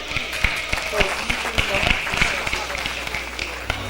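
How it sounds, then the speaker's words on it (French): Wedding guests applaud during a church ceremony led by a pastor, a steady patter of many hands clapping close by for a few seconds, with voices mixed in. "Nous demandons à l'assistant de les applaudir."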